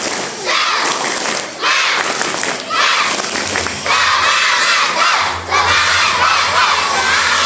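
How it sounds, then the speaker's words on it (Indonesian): A crowd of primary school children at an Isra' Mi'raj commemoration in Surabaya claps in quick rhythmic bursts and cheers loudly, the bursts repeating several times with short pauses between them. "coba tepuk semangat dulu ya untuk kelas tinggi"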